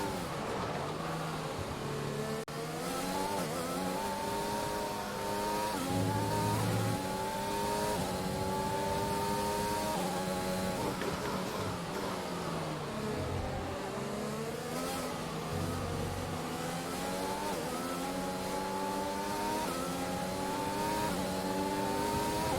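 Formula 1 race car engine in the F1 2021 video game, high-pitched revs climbing and dropping through repeated gear shifts, loud and continuous throughout with no talk.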